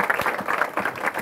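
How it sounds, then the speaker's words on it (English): Guests at a wedding reception applaud after the speeches, a brief, dense burst of clapping from a nearby crowd with no voices standing out. "Let's get another round of applause for all of those speeches."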